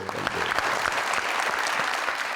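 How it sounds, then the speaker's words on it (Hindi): Studio audience applause on a Pakistani comedy talk show, a steady dense patter of many hands filling the whole stretch at moderate loudness. "इनके लिए बहुत सारी तालियां।"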